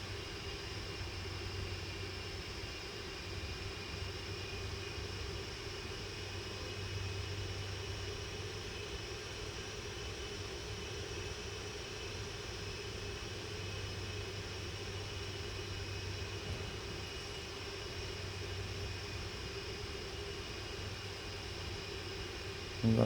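Airplane engine taxiing in the Prepar3D flight simulator, a faint, steady whining drone with a constant low hum underneath, unchanging for the whole stretch.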